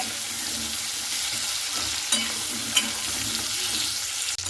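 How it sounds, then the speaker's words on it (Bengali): Pointed gourd (potol) pieces frying in oil for potol chingri, a loud, continuous sizzle close by, broken by a couple of sharp scrapes and clacks from the stirring spoon and a knock at the end. "হালকা করে এভাবে নাড়াচাড়া করে দিচ্ছি। পটলটাকে একেবারে লাল লাল করে মানে ভেজে নিতে হবে।"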